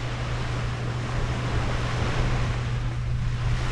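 Waves and wind on a wide sandy beach strewn with shells and rocks in Loreto, Mexico, a steady even wash of surf under continuous wind with a low rumble, no voices.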